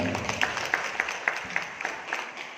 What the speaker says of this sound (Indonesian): Tepuk tangan Bapak Ibu semuanya